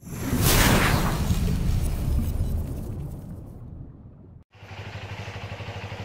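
A motorcycle engine roars loud and close, then fades; after a brief cut it runs on steadily with a low, even throb.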